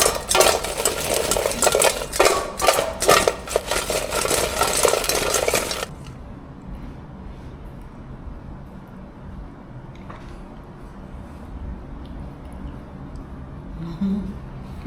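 Ground spice powder being tossed and stirred through tapioca fries, a loud dense rustling and scraping for several seconds that stops abruptly, leaving a quieter background with faint clatter.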